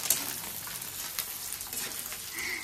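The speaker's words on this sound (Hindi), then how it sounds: "ये अंडा पनीर को फ्राई कर रहे हैं" Egg paneer fries in a pan at home, making a soft, continuous sizzle with occasional light clicks and stirs, fairly quiet and with no voices.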